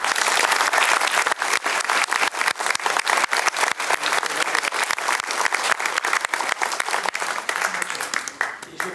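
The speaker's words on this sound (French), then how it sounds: "Vous pouvez les applaudir." A crowd at a public meeting gives sustained, loud applause with steady dense clapping that runs for several seconds and tapers slightly toward the end.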